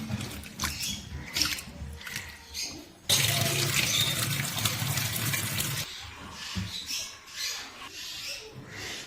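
Tap water runs into a sink while chopped raw green banana is rinsed, a steady splashing gush in a loud burst between quieter stretches of handling and trickling water.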